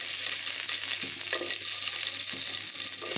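Dried fish fries in a pan with onion, garlic and chillies for a shutki bhorta, giving a steady close sizzle and hiss throughout with a few soft scrapes of stirring.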